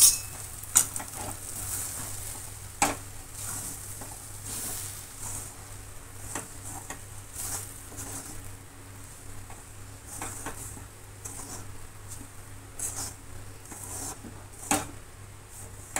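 Fine semolina (rava) roasted over low heat in a pan and stirred, giving a soft continuous scraping with scattered spoon clinks and taps, close up, with no voices.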